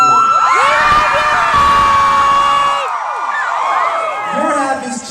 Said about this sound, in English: Your half is cheering for my half